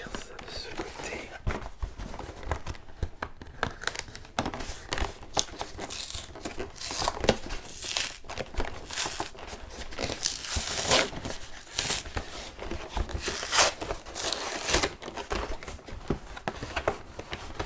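A Pokémon Charizard GX box set is handled and torn open close to the mic, with dense crinkling, rustling and tearing of packaging throughout and bursts of louder ripping, while a voice speaks softly now and then.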